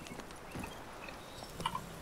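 A horse's hooves clip-clop softly at a walk in The Witcher 3 video game, faint and close against a quiet ambient background.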